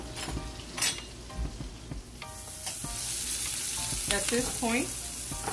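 Onions sizzle and fry steadily in a pan over medium-high heat with occasional stirring, a close continuous crackle while a voice speaks briefly over it.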